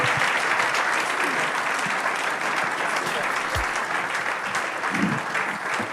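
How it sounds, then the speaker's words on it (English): Audience applauding at a book launch event, a loud, continuous wash of hand claps from a seated crowd, with a few scattered voices underneath. "I expected a louder hand clap."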